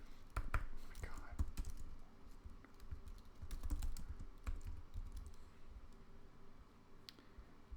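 Fast, uneven key clicks from a computer keyboard typing in short bursts, quiet and close, with soft breathy background noise and no talking.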